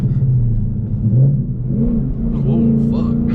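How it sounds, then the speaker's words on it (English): A 2018 Ford Mustang GT running an E85 tune accelerates hard in second gear, its engine note a steady, loud droning rumble that climbs gradually in pitch, heard from inside the car. "So we'll do second gear pull right here."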